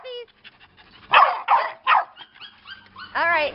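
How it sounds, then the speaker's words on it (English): Several happy puppies bark and yip in short bursts, a few loud close barks and a high whining yip among quieter whimpers and panting. "Oh, happy puppies."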